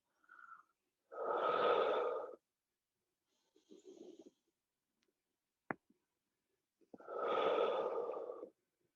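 Breathing during a rocking exercise at a mystical development meetup: two long, loud breaths several seconds apart, with a softer breathy sound and a sharp click between them, no talking.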